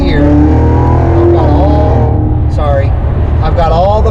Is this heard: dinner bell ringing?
no